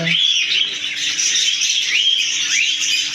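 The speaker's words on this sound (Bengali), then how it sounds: "অনেক পাখি অনেক কিচিমিচির" A dense, continuous chorus of many small caged birds in a bird and aquarium shop chirping and twittering at once, loud and close, with a faint steady hum underneath.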